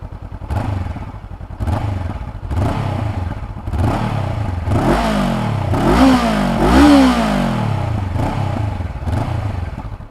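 A 2019 Honda CB500F motorcycle engine turns over with repeated cranking bursts, then catches and revs a couple of times before settling toward idle, loud and close with no talking.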